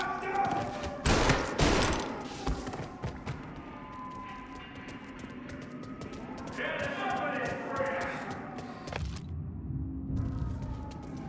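Gunfire in the crime game Mafia Definitive Edition: a burst of shots near the start, then scattered pops under ongoing game dialogue and background noise.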